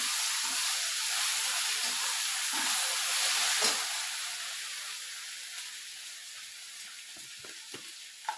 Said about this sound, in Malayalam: ഇഞ്ചി വെളുത്തുള്ളി പേസ്റ്റ് എല്ലാം ഒന്ന് വഴറ്റി കഴിഞ്ഞിട്ട് വേണം അതിലേക്ക് മസാല ഇറക്കാനായിട്ട്